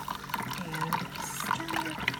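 Coffee brews while vanilla creamer is poured in, a close trickling and splashing of liquid with small gurgles and drips running throughout, no talk.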